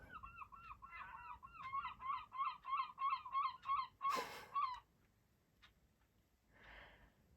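A seagull perched on a house roof gives a run of repeated, rhythmic yelping calls, fairly close and loud, then a harsher burst and a quieter call after a pause, amid faint outdoor background.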